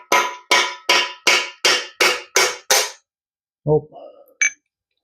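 Eight evenly spaced metallic clangs ring out from a Ford 289 engine block as freeze plugs are hammered loose, each strike sharp and close, followed by a pause and a few scattered clinks and scrapes.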